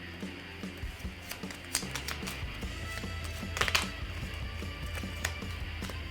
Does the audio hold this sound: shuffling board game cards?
yes